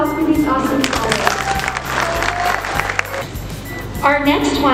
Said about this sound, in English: big round of applause for these awesome scholars